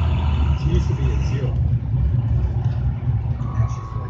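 An IC CE bus engine idles with a steady low rumble throughout while people talk over it inside the cabin.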